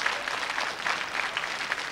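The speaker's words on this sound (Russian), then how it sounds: "А тебе, Юлдаш, аплодисменты наших зрителей." Studio audience applauding on a television game show, a steady dense patter of many hands clapping at moderate level throughout, with no voices over it.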